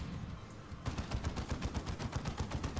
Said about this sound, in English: You'll notice that all the weapons have a distinct sound to them.